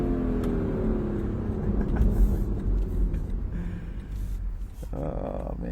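A car engine held hard against its rev limiter, a loud, steady, buzzing roar from inside or near the car that wavers slightly and stutters without dropping away.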